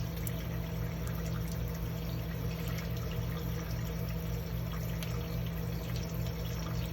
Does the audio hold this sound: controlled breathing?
no